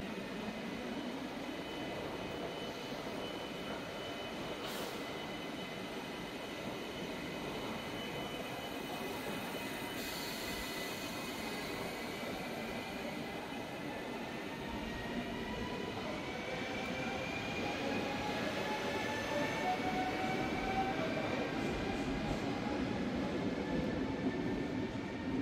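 Dutch passenger train running toward Amersfoort, heard from inside the carriage as a steady rumbling ride with rising and falling whine, continuous and fairly loud with no talking.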